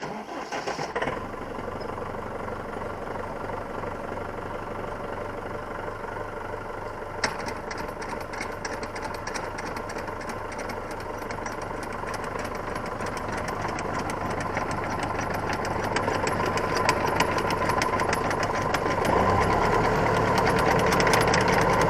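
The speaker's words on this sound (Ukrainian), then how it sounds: "заводимо, включаємо мішалку, хай вона собі колотить" The engine of a WIRAX field sprayer with a 12 m boom and a 400-litre tank starts and runs at a steady, close, knocking idle while the tank mixer churns. The sound grows slightly louder and rougher toward the end.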